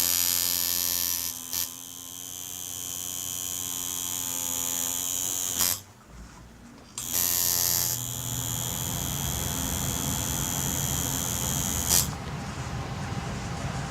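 A 798 tattoo machine fitted with a 9-round needle buzzes steadily while going over and thickening lines, a close, continuous electric whine that drops out briefly twice before resuming.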